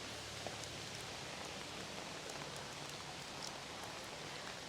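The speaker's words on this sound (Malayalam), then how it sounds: "നല്ല മഴയാണ് ഇവിടെ" Heavy rain falls outside a house, a faint, steady hiss of rainfall on surfaces with no breaks and no talk.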